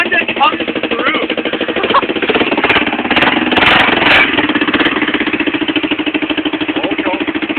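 A smashed Honda Fourtrax ATV engine runs steadily after a cold start, a loud, close, rattling single-cylinder putter with a fast, even pulse throughout, and a voice calls out over it.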